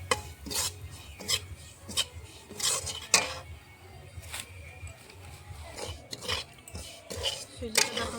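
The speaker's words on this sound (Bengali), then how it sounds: "এখন সুজিটা ভেজে নেব হালকা করে।" Semolina is lightly fried in ghee in a pan after almonds and cashews were fried in it, while making Holi gujiya. A utensil scrapes and stirs in quiet, irregular strokes, with occasional sharper metallic clinks.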